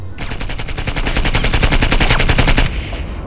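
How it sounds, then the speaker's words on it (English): The Mini-Me machine gun in the video game Project IGI fires a loud sustained burst of rapid, evenly spaced shots for about two and a half seconds, then cuts off. "a machine gun called the Mini-Me for some reason. see it firing"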